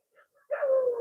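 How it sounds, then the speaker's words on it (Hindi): Dogs outdoors: two faint, brief yelps, then a louder, drawn-out bark that trails into a sustained whining howl, fairly close with no talking. "कुत्ते भी भौंकने लगे हैं, कुत्तों की आवाज़ भी सुनाई दे रही है"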